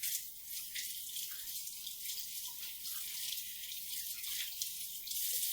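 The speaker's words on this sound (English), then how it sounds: "I'm going to wash my hands." Hands being washed under a running kitchen tap, with a steady, close hiss of water flowing the whole time and no talking.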